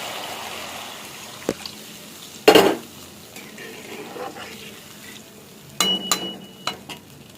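Water poured into mustard paste, green chilies and spices frying in oil for a pabda fish curry gives a sudden loud hiss, then a quieter simmering sizzle with a later burst and light pan clinks.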